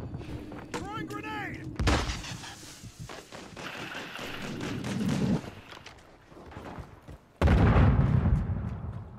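A grenade thrown and exploding during a Warzone match on Rebirth Island: several thuds and booms mixed with game noise and voices, ending in a louder, sustained blast near the end.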